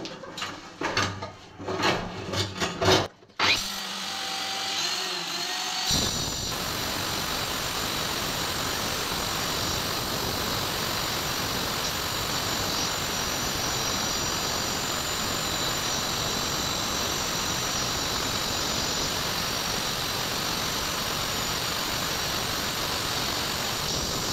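A power cutter slices through marble stair risers, a loud steady whining grind running for about eighteen seconds after a few seconds of knocking and handling noises.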